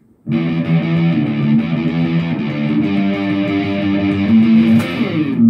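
Loud, sustained distorted electric guitar chords ring on continuously, with a slide in pitch near the end leading into the chorus; no voices.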